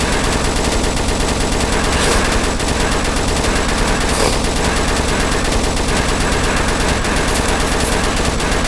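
Rapid, continuous gunfire from weapons in the Roblox game Zombie Arena, loud and dense with sharp bursts across the whole stretch and no pause.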